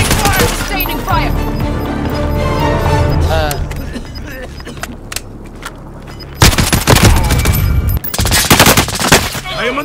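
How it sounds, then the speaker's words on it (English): Rapid automatic gunfire in Call of Duty: Modern Warfare on Rebirth Island, loud and dense bursts filling the clip, with a lull in the middle before heavy volleys return near the end. "I am under fire!"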